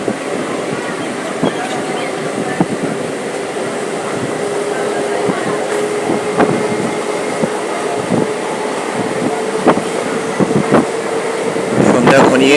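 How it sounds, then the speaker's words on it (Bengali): A WDM 3D diesel locomotive hauls a train rake into a station at dusk, with a loud, continuous rumble and rhythmic wheel clatter throughout and voices faintly audible beneath. "WDM 3D একটা ট্রেনের রেক নিয়ে ইন করছে।"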